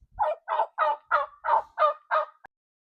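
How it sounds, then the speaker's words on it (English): A turkey hen gobbles in an agitated run of seven quick, evenly spaced calls, loud and close, alone without talk, ending in a short clipped note. "that's Tamika the turkey"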